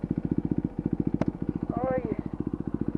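Motorcycle engine while riding along a road, a steady rapid chugging pulse close up and loud throughout, with a brief tonal whistle-like sound over it partway through.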